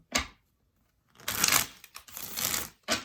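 Tarot cards shuffled in bursts, a short riffle followed by a longer stretch of crisp, papery shuffling and a final quick flutter, close and fairly quiet with no talk.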